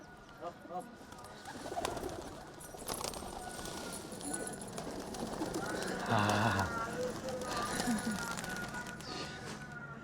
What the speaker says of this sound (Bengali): অনেক কবুতর রয়েছে এখানে